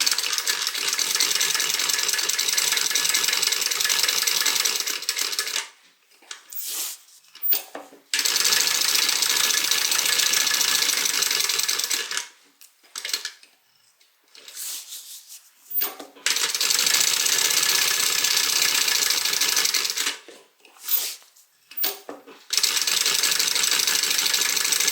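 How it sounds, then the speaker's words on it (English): A sewing machine stitches Velcro pieces onto a fabric bag, running in three long close buzzing bursts separated by short pauses with small handling clicks. "we're going to sew these pockets on, or these Velcro pieces on"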